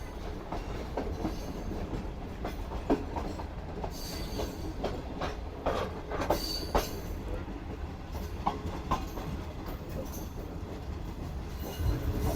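A Pakistan Railways Marvi Passenger train rolls near Khokhropar station in the Thar Desert, with a constant rumble, rhythmic clickety-clack from the wheels and occasional metallic squeals, heard without speech.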